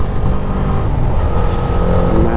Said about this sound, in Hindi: ये मैं पूरा रेव पे हूँ और ये गाड़ी भागा जा रहा है